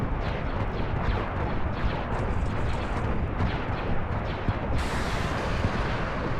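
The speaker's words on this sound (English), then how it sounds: "We do have AA shooting at it from me." Dense, continuous anti-aircraft fire pounds away at an Imperial I star destroyer in a video game battle beside an Acclamator, a loud, unbroken barrage of overlapping shots and blasts with no talk.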